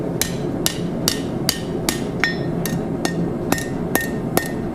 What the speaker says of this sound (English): Hammer it nice and tight.